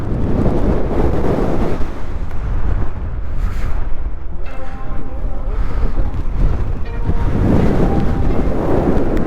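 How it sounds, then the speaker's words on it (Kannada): Heavy wind roaring into the microphone on a monsoon motorcycle ride through the foggy hills near Baba Budangiri in Chikkamagaluru, a loud, continuous buffeting rush that surges and dips. "ಗಾಳಿ ಇಷ್ಟೊಂದು ಬರ್ತೈತೆ."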